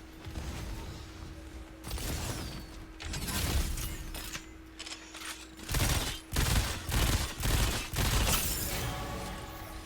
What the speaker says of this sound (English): Yeah, my grenades are going right through